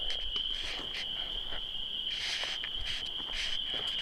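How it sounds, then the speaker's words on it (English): Frogs call outdoors at night beside a backpacking campsite in a Minnesota state park, a steady high insect-like trill running throughout with faint croaks pulsing underneath, all at a distance and with no voices. "You can hear the frogs out here"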